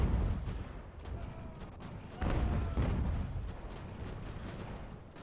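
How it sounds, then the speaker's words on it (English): Artillery fires in the Ultimate General: American Revolution battle game, with repeated heavy booms and thuds rolling over a dense, noisy battlefield backdrop at moderate loudness, with no voices. "Artillery."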